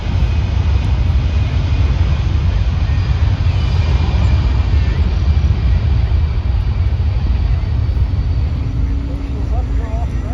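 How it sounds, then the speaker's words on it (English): A USAF C-17 Globemaster takes off at the Dayton Air Show, a loud, steady roar of jet engines filling the whole clip with broad rumbling noise. "Let's watch as the C-17 takes to the skies"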